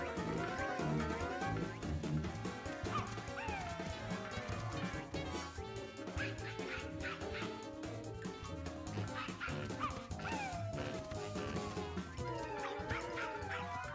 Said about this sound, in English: The barking sounds like it's coming from the old cave.